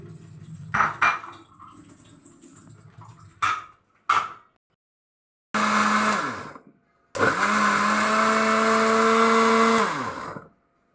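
A blender whirs through chunks of ripe mango with two spoonfuls of sugar for a milkshake, running in two loud sustained bursts after a few short clattering pulses and kitchen knocks.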